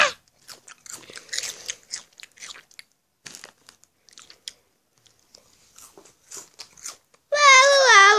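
Crunchy crisps are bitten and chewed in short, close crunching bursts with brief pauses, followed at the end by a loud, sustained warbling tone.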